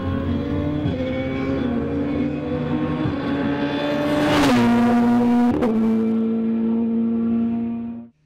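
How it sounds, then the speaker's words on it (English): A Radical track day car driven on the Goodwood circuit, its engine holding a loud, steady high-pitched drone with a sharp shift or surge midway, then easing and cutting off abruptly at the end. "one of the world's fastest and most exciting track day cars"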